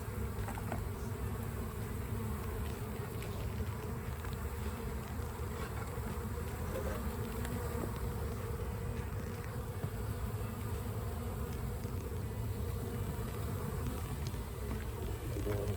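Honeybee field foragers swarm outside a beehive, their buzzing a dense, continuous drone that stays loud and steady throughout.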